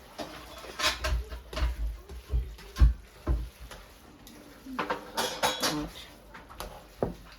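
Mincemeat spaghetti being mixed in a pan: scattered clinks and scrapes of a utensil against metal, irregular and moderately close, with a voice talking over it.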